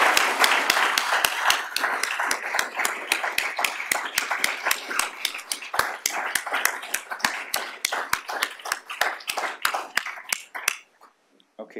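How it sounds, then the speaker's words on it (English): Audience applause at a law school chair dedication, a fairly close, rhythmic burst of clapping with distinct individual claps that ends abruptly near the close, leaving silence. "give a round of applause for Professor Ogletree"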